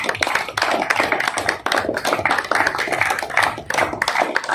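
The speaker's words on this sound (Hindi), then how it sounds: "ताली हो जाए सर के लिए।" Applause from a gathered crowd clapping for Neeraj sir at a celebration of a new Pulsar 125cc bike, dense and continuous with uneven surges throughout, close and fairly loud.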